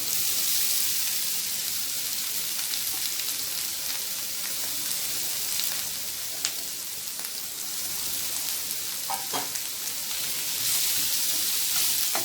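Mashed potatoes being mixed in a hot pan for a potato vegetable dish make a continuous hissing sizzle with scattered scraping ticks, at moderate loudness and without talk.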